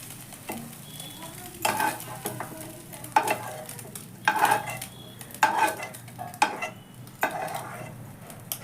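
A spatula scrapes and stirs egg bhujia in a frying pan as it is lifted out, giving repeated close metallic scrapes and clinks over a soft continuous sizzle, with no talk.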